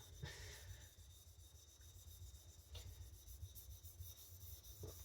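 A knife edge is sharpened on a Pierre la Lune whetstone with a sticky, gummy feel, giving close, quiet abrasive rubbing strokes in a steady back-and-forth rhythm, with a few soft scraping accents.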